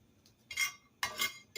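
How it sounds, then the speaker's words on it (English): Almonds sautéed dry in a regular cast iron skillet, stirred in three short bursts of close rattling and clinking against the metal, with quiet gaps between. "we are going to saute the almonds. I'm just using a regular cast iron skillet"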